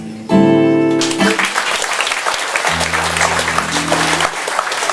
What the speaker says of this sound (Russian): Судя по аплодисментам.